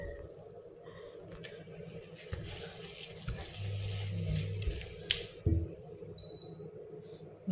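A kitchen tap runs water while a simple dinner is cooked, with a soft steady flow, light splashing and a few small clinks and knocks, fairly quiet and without talk.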